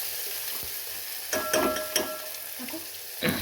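Pasta is stirred in a pan over a gas flame, with a soft continuous sizzle and several distinct scraping strokes of a spoon against the pan.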